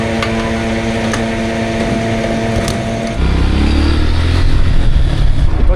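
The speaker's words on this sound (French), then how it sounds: "je pensais pas enchaîner avec un trajet en moto comme ça" A motorcycle engine idles with a steady humming drone, then revs up partway through, growing louder and rougher as it pulls away on a road trip in Côte d'Ivoire, close and loud without speech.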